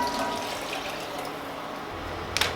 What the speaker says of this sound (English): now we're gonna add in our broth and bring it to a boil